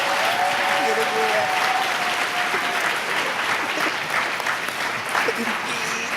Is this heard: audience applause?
yes